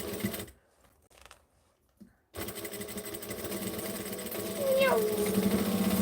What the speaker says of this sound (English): Then we get to the top here, and we're just going to sew over all the layers.